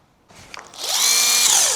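An electric polisher works on a gloss black Tesla Model 3 door pillar, starting with a few light knocks and then spinning up into a loud, steady high whine that holds to the end.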